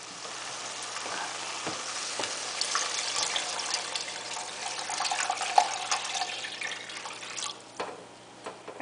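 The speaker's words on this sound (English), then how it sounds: "And now I'm going to add in the 5 cups of water." Five cups of water pour steadily into a pot of eggplant stew for several seconds over a soft, continuous sizzle, with a few clinks toward the end.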